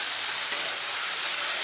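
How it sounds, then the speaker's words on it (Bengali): Tomatoes seasoned with salt and turmeric fry in a pan, giving a steady close sizzle with one small pop and no talking. "টমেটোটা ভালোভাবে ভেজে নেব"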